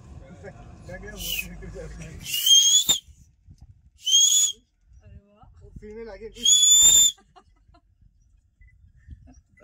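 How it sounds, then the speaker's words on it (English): Three loud, shrill human whistles ring out in separate bursts at a South African game reserve, with quiet murmuring voices and rustling between them. "Just whistle once and see their reaction. But it needs to be loud."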